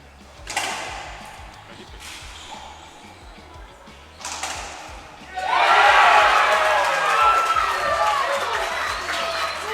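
A crowd at a junior world doubles racquetball match in Costa Rica, with a couple of sharp ball-strike bursts giving way to a loud, sustained swell of cheering and whistling that carries to the end.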